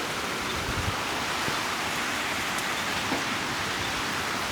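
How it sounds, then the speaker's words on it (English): Steady rain falling on an island near Saigon, a dense, even hiss of downpour without pause, moderately loud and uniform. "The rain's coming down."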